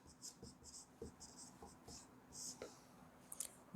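A pen writes an answer on paper in short, quiet scratching strokes, several in a loose rhythm, close and faint, with a light tap near the end.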